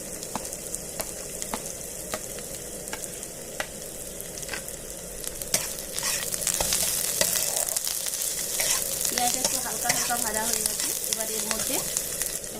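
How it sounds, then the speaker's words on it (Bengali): Chopped onion, with chopped green chillies, frying in oil in a Bengali okra dish, a steady close sizzle that swells louder and busier partway through, with occasional stirring clicks. "একটা বড় সাইজের কুচনো পেঁয়াজ দিয়ে দিচ্ছি তেলের মধ্যে পেঁয়াজটিকে একটু হালকা করে ভেজে নেব"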